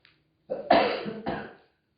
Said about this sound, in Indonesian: maaf saya agak batuk ini